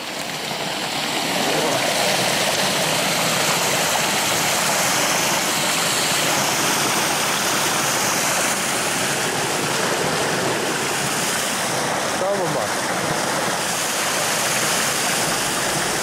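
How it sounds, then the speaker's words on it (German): A small forest waterfall rushes steadily and close by, a dense broadband roar of falling water that holds at an even level from start to finish with no other sounds. "Da ist eine kleine schöne Stelle mit dem Wasserfall."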